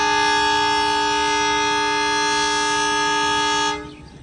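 A loud, sustained horn blast from the Marwar–Goram Ghat metre-gauge train, holding steady for nearly four seconds before cutting off into quiet ambience.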